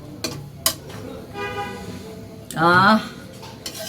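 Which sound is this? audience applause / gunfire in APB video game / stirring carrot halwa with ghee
stirring carrot halwa with ghee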